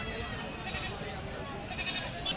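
A goat bleats twice amid the crowded background of an outdoor goat market, where speech and general bustle run throughout and the short calls rise only modestly above the din.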